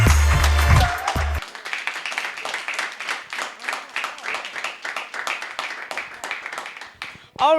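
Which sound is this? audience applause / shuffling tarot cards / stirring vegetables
audience applause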